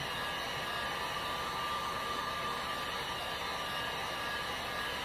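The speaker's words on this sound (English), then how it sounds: "So you never wanna heat up in one spot. You wanna make sure that you move your heat gun." A heat gun blows a steady, loud, unbroken airy roar while paint on a custom tumbler is being heated.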